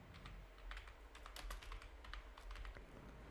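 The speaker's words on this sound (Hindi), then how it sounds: "यहाँ पे टाइप कर लेते हैं हम पास मार्क्स" Rapid clicking of computer keyboard keys while entering marksheet data into an Excel spreadsheet, steady irregular taps close and clear with no talking.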